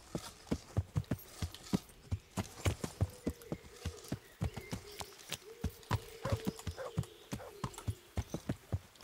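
Rhythmic hoof clip-clops of a horse in a video game sound at a steady trotting pace for several seconds, with a brief horse snort partway through.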